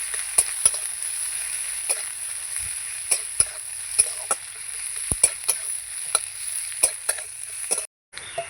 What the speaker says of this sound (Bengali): এর মধ্যে এবার পেঁয়াজ কুচিটা দিয়ে দেবো কিছুক্ষণ ভালো করে ভেজে নেব লাল লাল করে